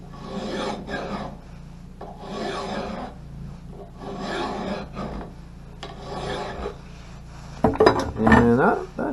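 A file or sharpening stone rasps in repeated strokes along an axe blade, close and steady, with a louder scraping burst near the end.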